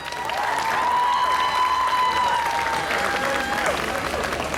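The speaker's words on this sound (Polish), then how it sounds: "jemu też należą się wielkie brawa" A crowd applauds the absent club president during a volleyball team presentation at the Siedlce town days, with steady clapping and cheering and a faint voice over a sustained tone in the background.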